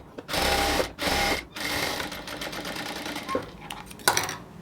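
A sewing machine stitches a seam on a salwar pant, running in a few short quick bursts separated by pauses, close and moderately loud with small handling clicks between runs.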